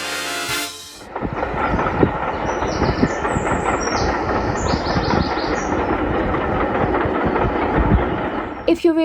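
A train rumbles steadily past close by a narrowboat crossing a viaduct, loud and continuous with rhythmic clatter and occasional high squeals, starting abruptly after a brief quiet moment.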